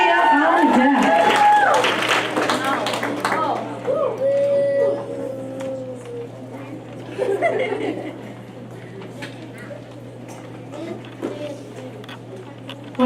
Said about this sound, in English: Keep that applause going for Josemary.